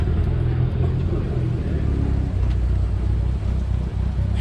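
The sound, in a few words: American muscle car engine starting up and rumbling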